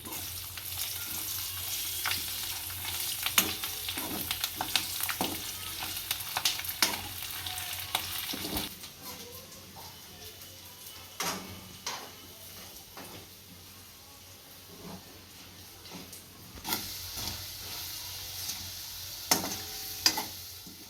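Bay leaves and garlic cloves sizzle in hot oil, a steady close frying crackle with stirring clatter and scrapes throughout, busier in the first half then settling to a quieter sizzle, with no voices.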